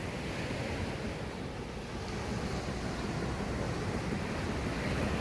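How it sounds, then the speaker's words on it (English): Calm sea waves at Gorleston Beach wash steadily onto the shore during a fishing session, a constant, fairly loud surf hiss with wind buffeting the microphone and no voices. "The sea is really calm, to be honest with you"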